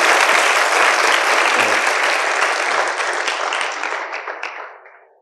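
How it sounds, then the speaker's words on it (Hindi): An audience at a WiSE 2023 event applauds a guest with loud, dense clapping from many people close by, holding strong for several seconds and then fading out. "तो एक बार सर के लिए तालियां हो जाए।"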